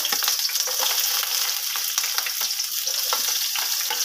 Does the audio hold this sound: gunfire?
no